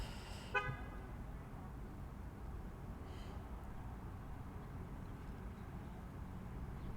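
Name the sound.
car alarm or horn beeping in parking lot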